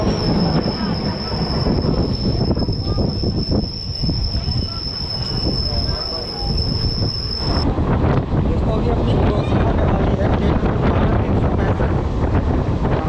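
Passenger train 13151, bound for Kolkata, rolls along the rails, loud and close, with a continuous rumble, a high wheel squeal through the first half and heavy wind buffeting the microphone.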